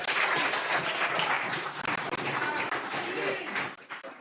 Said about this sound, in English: Please give Mr. Mark Golding another round of applause.